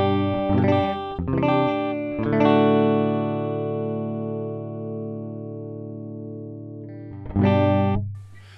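An Epiphone Riviera electric guitar on both pickups plays a few quick strummed chords, then one chord left to ring and fade slowly, and a final pair of strums. The tone is clean, warm and close.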